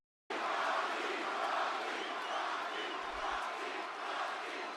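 Wrestling arena crowd cheering and roaring, a dense, loud, continuous wash of voices that starts abruptly and holds steady, distant-sounding and filling the space.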